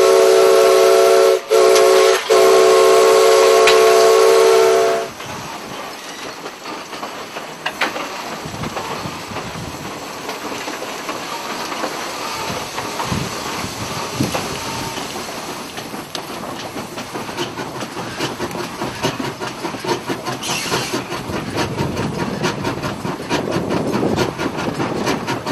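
A steam locomotive brakes and slows down. It opens with a loud, sustained steam whistle blast, then gives way to a long stretch of rushing hiss and rattling, rolling train noise.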